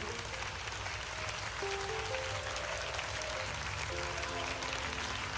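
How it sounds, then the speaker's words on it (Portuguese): A church congregation claps along during a worship service, a soft, steady wash of applause with singing or speech faintly underneath. "glorifique ao Senhor com palmas."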